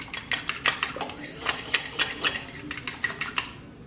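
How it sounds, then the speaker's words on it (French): An egg and fruit compote are whisked in a bowl, giving rapid irregular clinks and scrapes of utensil on the dish, close and fairly clear, without talk. "Donc un œuf que je bats avec une compote"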